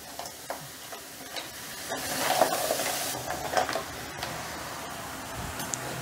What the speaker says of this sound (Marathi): मसाला पण चांगला मी 5 मिनिटं परतून घेतला आहे.